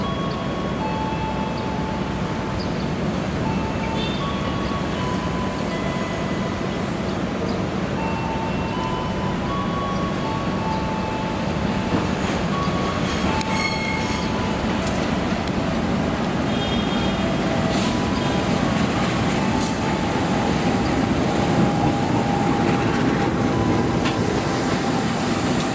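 A train hauled by CC201 locomotive 8313 rolls into track 5 at a railway station, a loud, continuous rumble and rattle of wheels and wagons lasting the whole stretch, with faint squeals and clanks on top.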